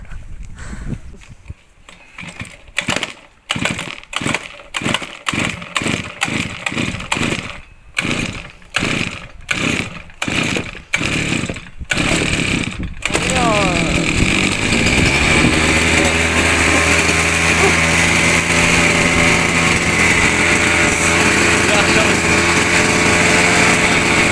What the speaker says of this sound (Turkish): Evet makine çalışıyor.